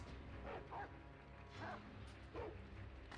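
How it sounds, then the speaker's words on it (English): Dogs in the video game Sekiro bark in three loud, evenly spaced bursts, each a short yelping cluster over a steady low game ambience. "Stupid dogs."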